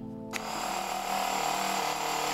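Graco Ultra QuickShot handheld paint sprayer priming with water, its motor starting abruptly and then running as a loud, steady, high buzzing whine close by with no talk.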